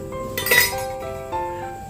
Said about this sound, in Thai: ปิดฝารอน้ำเดือดนะคะ